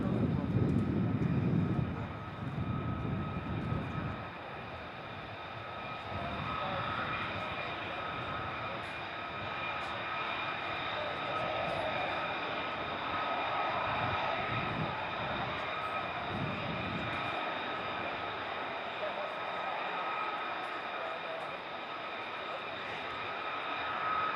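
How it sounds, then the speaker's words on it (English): Distant F-35 jets at RAF Lakenheath make a faint, steady, far-off roar that drones on without a break, with a louder rumble at the start. "I think they look like F-35s, but I couldn't really tell, they're too far away."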